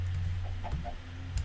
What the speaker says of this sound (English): Here are the chickens.